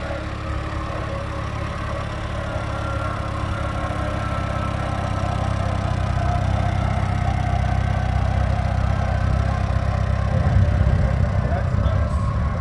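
A Cub tractor engine idles steadily and close by, a continuous low rumble with a dense mechanical rattle that holds even throughout.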